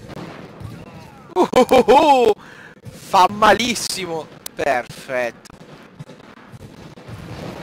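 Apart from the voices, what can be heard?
gunfire in a video game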